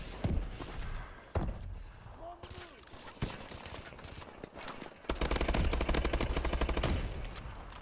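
Gunfire in Call of Duty Black Ops during a team deathmatch round, with sharp isolated shots and a dense burst of rapid automatic fire late on, mixed with game effects at moderate level.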